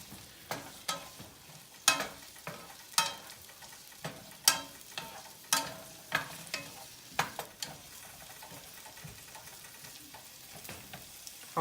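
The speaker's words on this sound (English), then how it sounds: "we're gonna saute these down. They'll soften up and the color of the pepper will actually get really, really super brighter than it was." Peppers and mixed vegetables sauté in a hot pan for vegan spicy lo mein, a steady sizzle broken by repeated scraping stirs at an irregular rhythm, close and fairly loud with no talking.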